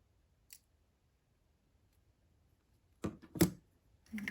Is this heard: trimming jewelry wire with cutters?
yes